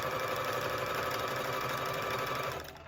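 Sewing machine running steadily while stitching a half circle skirt, a continuous close mechanical whir with a fast even rhythm that slows and stops near the end.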